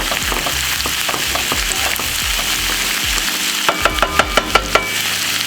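Mushrooms sizzle loudly in a hot pan while being stirred, a constant crackling fry broken by a quick run of sharp knocks from the utensil near the end.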